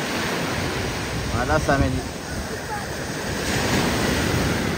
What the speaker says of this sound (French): donc il y a des vagues